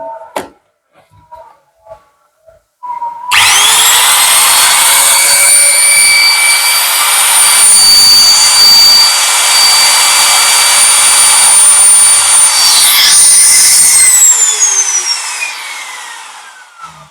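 A Bosch GKF550 palm router for wood runs with no load at full speed during an RPM test, a loud high-pitched whine that starts abruptly, holds steady for about eleven seconds, then winds down. A few faint clicks come before it.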